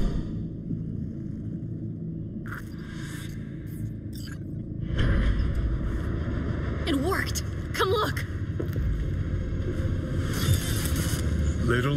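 A car engine in Cyberpunk 2077 turns over and settles into a steady low rumble that swells partway through, with voices talking over the running motor.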